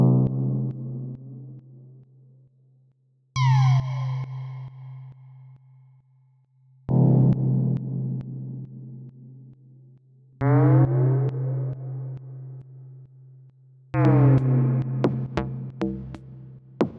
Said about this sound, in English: let's add a lot of reverb as well